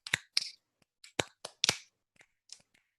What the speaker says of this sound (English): snap your fingers near your ear